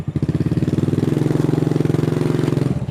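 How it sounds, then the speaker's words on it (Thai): A Honda Wave motorcycle engine idles up close with a steady, rapid putt-putt rhythm. "เสียงรถเวฟครับ"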